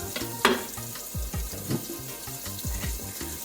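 Two medium-sized tomatoes dropped into a hot pan for chicken biryani, giving a steady close sizzle and frying crackle with light clinks and stirring, no talking.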